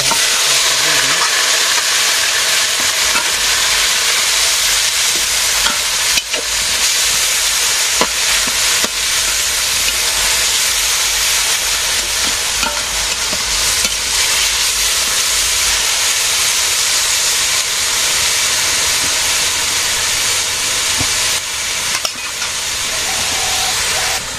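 Leafy greens hiss and sizzle steadily in a pan with onion tempering fried to brown, a continuous close frying sound with occasional stirring scrapes and no talk.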